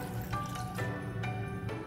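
Water pours steadily into a pot holding a pound of pitted dates, a continuous near trickle and splash with faint intermittent clinks, no voices.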